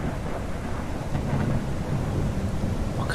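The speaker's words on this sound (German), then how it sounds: "Wir haben jetzt anscheinend einen Sturm." A thunderstorm in the video game Primal Earth, with dense steady rain and low rolling thunder rumbling underneath, broad and continuous throughout.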